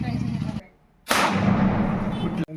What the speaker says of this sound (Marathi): तर चला आपल्या पण घरासमोर आता संकेत लावते बॉम्ब.